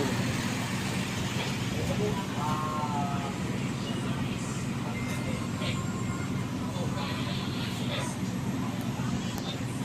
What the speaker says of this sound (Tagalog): Yan ang mga sasakyan ay sa baba.